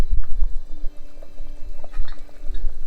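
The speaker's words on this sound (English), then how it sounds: "I'm going to put the lid back on because it's bubbling away." Chicken curry simmering in a pot on a home stove, giving soft irregular bubbling and popping pulses close by, with no talk.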